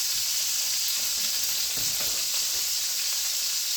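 Salmon sizzles steadily in a hot pan, a continuous close frying hiss that holds at an even level with no voices.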